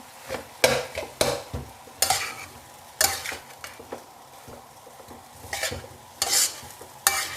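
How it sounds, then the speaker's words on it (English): Thai fried rice stir-frying in a pan, with a steady low sizzle under repeated loud scraping and clanking strokes of a spatula against the metal, coming in irregular bursts and heard without talk. "fried rice does mean you always fry. And important thing, you have to do this until it's dry."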